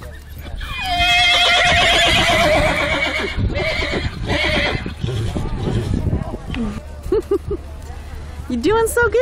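A horse whinnies loudly with a long, quavering call at a rodeo, followed by hoof clatter and excited voices of people nearby.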